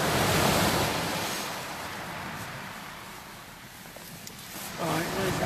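Sea waves wash steadily onto a windy shingle beach at Eastney, a continuous broad roar with rising and falling surges, while a voice talks faintly underneath.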